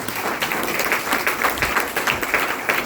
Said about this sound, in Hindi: अब ये तालियां आप सबके लिए।